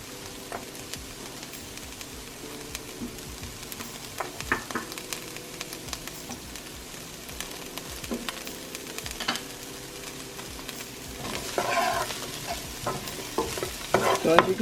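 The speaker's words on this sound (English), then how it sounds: "we're just going to let these onions cook for a few minutes" Onions frying in a pan with a steady crackling sizzle, occasional utensil taps and stirring noises growing louder and busier toward the end, close and fairly quiet.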